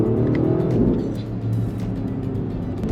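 A 2025 BMW XM hybrid M SUV accelerating at full throttle in third gear on an icy road, heard from inside as a loud, sustained engine roar that stays strong and steady for the whole stretch.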